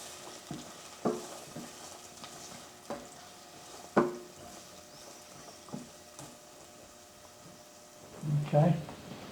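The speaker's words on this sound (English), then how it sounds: "So get this started sauteing." Cut baby carrots begin sautéing in a soup pot, a soft sizzle punctuated by sporadic spoon scrapes and clinks, with a louder stir near the end.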